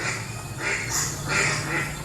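Several ducks quack in a short, busy burst, a few calls overlapping against a steady low hum, as heard in a children's story about ducks lining up across a river to form a bridge.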